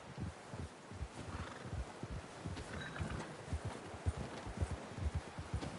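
Horse hooves clip-clopping in the video game Red Dead Redemption 2, a quiet, steady rhythmic series of thudding steps with a faint rustling bed underneath, no speech.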